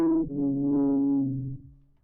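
A deep, sustained synth tone whose timbre sweeps slowly as a Filter Freak filter opens and closes, then fades out near the end.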